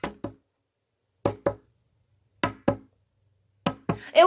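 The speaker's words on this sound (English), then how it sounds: "I heard knocking on my bedroom door" Someone knocks on a bedroom door in sharp double raps, two quick knocks repeated four times with pauses of about a second between pairs, loud and close in an otherwise silent room.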